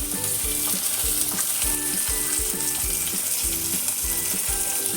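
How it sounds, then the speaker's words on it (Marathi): Onion and garlic sizzle loudly in hot oil in a pan, a constant dense crackling hiss with a repeating stirring scrape, close up and uninterrupted, with no voices. "आता ह्याच्यात तेल घालते, आणि कांदा, लसूण पण घालायचे"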